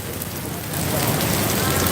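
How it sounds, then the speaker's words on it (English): Heavy rain pours down on a local neighborhood street in Da Nang, Vietnam, a loud dense hiss of drops on surfaces that swells stronger partway through, with no voices. "It's pouring."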